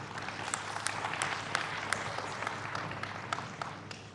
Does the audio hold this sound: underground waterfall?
no